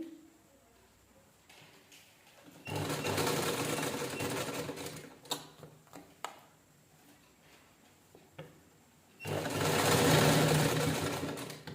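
A domestic sewing machine stitches piping strip onto a blouse neckline in two loud, steady bursts of running motor and needle chatter, separated by a quieter pause with small handling clicks.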